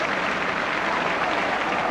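A dense, steady roar of a football crowd fills the ground, clapping and cheering blending into constant broadband noise, loud and unbroken.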